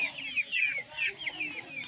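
Chickens cluck steadily inside a house, a run of repeated close calls over a low background murmur.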